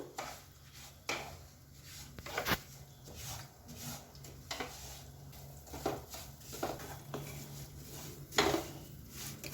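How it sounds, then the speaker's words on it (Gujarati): Semolina roasting in melted ghee over low heat, with a spoon or spatula scraping and clinking against the pan at scattered moments over a quiet, steady background. "હવે આ ઘી ઓગળી ગયું છે, એમાં ધીમો તાપ રાખી અને એમાં રવો નાખી અને એને થોડો શેકાવા દઈશું"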